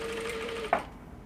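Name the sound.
sewing machine stitching net onto seam allowance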